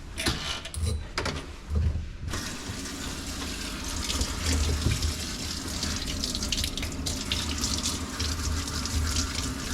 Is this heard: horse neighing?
no